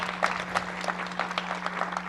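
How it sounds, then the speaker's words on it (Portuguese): Audience members applaud as a journalist is called to the front at a corporate communications event. Brisk, crisp clapping comes from a moderately sized crowd over a steady electrical hum. "Palmas para ela, por favor,"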